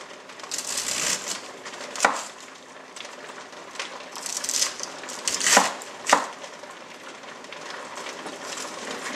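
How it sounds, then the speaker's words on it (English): A knife slices cabbage thinly into long stringy shreds for sauerkraut, with a run of quick crunchy cuts and a few louder chops against the board, close and clear with no voices. "I like to cut mine with a knife because it makes long, stringy pieces of kraut. Just cut it really thin."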